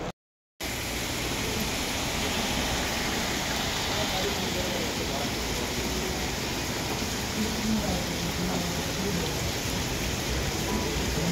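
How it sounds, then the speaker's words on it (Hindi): After a brief moment of silence, steady rain falls in an even, dense hiss that continues unbroken at a constant level. "अभी भी बारिश हो ही रही है"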